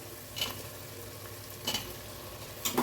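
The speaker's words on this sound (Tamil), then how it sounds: "இப்போது நான் 2 தக்காளி எடுத்துருக்கேங்க, அதை போட்டுக்கிறேன்." Two tomatoes frying in a pan for veg biryani, a quiet steady sizzle broken by three short bursts of stirring or scraping spaced about a second apart, with no voices.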